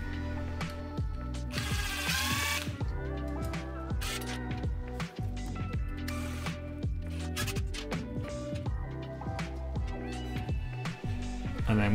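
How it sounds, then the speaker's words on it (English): A ratcheting screwdriver clicks steadily as screws holding an electric scooter controller to the stem are removed, with close, rhythmic pawl clicks and short bursts of turning repeated across the stretch. "You can now remove the 4 remaining screws that hold the controller to the stem."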